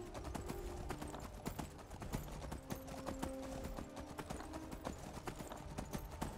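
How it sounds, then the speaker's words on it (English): Horse hooves clip-clop in a steady, rapid rhythm while riding in the Skyrim VR video game, a continuous quiet gallop with faint game sounds underneath. "this is the first time I've ridden a horse in VR"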